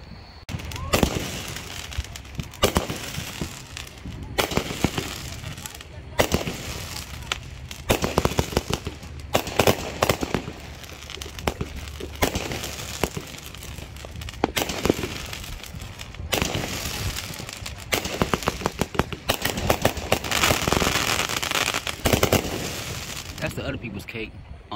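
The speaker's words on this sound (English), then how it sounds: "Got some fireworks going off around the neighborhood over here." Fireworks, including artillery shells, pop and crackle repeatedly around a residential neighborhood, with sharp bursts scattered throughout at varying distances and a steady crackling background.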